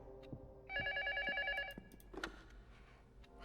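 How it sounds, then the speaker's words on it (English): A telephone rings in the game LUTO, one warbling electronic burst of trilling bell tones in a quiet, sparse space with faint clunks around it. "The phone keeps ringing."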